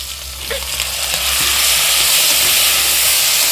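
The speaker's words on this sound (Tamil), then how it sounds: "வெங்காயம் கொஞ்சம் வதங்கிருச்சு. தக்காளி சேர்த்துக்கலாம்." Onions and tomatoes sauté in a pan for tomato rice, a loud close hiss and sizzle that grows fuller and steadier after the first second, with no one talking.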